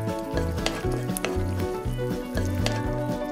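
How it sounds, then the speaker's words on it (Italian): Meat and sauce sizzle and fry in a pan with a constant crackling hiss, punctuated by scrapes and stirring, while rhythmic background music plays underneath. "Versa la salsa e falla friggere leggermente."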